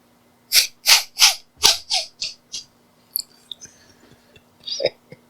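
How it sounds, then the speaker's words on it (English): A video game character makes a string of forceful breathy bursts, rhythmic wheezes and sneezes in quick succession, followed by softer clicks and a final sharp sneeze-like gasp. "he's wheezing and coughing and or sneezing"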